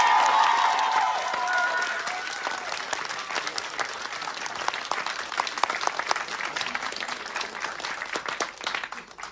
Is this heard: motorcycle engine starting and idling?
no